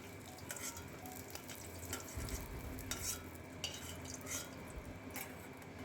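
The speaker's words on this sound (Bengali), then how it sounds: "ভালো করে নাড়াচাড়া করে ভেজে নিচ্ছি। রসুনটা একটু ভালো করে ভাজতে হবে" Garlic fries in oil while a spoon stirs it around the pan, a soft, steady sizzle with faint scraping and light clicks, quiet and close, with no speech.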